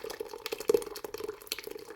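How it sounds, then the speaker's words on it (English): Steaming hot homemade ricotta is poured from a pot into a cheesecloth strainer set over a bowl, giving soft splashing and wet, gurgling liquid sounds with a few louder spatters, fairly close and without talk. "we're going to carefully pour, and it's steamy hot, all of this awesome ricotta"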